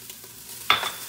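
Garlic hits a hot pan during cheesy vegan broccoli soup prep, giving a sudden close sizzle burst with stirring that fades slightly over the final half second after quiet kitchen ambience.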